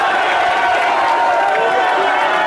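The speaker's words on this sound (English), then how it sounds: "And then they all just cheering." A large crowd of football fans roars and cheers in a dense, loud, continuous wall of voices, steady throughout.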